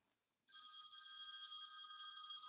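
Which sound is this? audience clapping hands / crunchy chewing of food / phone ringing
phone ringing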